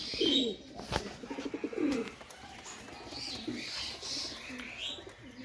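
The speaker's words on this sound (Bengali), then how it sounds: "কবুতর দুইটা আমি ছেড়ে দেখাই" Pakistani Teddy pigeons coo softly close by, with a brief burst of flapping wings near the start as they are released, then quieter cooing and rustling.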